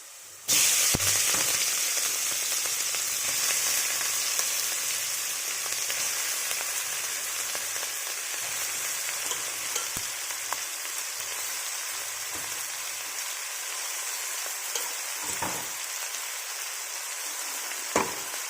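Mixed vegetables for kalagura curry hit hot oil with a sudden loud sizzle, then fry steadily with a hissing, rain-like crackle and occasional stirring knocks, close and continuous.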